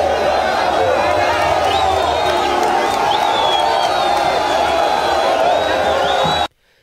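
A dense crowd cheers and whoops loudly as a presidential couple emerges from an airport, a continuous roar of voices and shouts that cuts off abruptly at the end.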